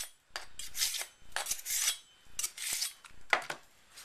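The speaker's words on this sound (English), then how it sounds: "Edge sharpener. Just run it once through each side or a couple of times." Kitchen knife blade drawn through a handheld edge sharpener, four separate bright metallic rasping strokes with short gaps between them, close and fairly loud, with no voices.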